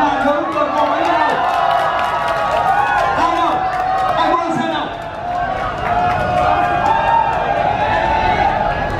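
Crowd at a Subaru stunt show cheering and clapping over an announcer's amplified voice speaking through the whole stretch, with the crowd swelling in loud bursts and then fading.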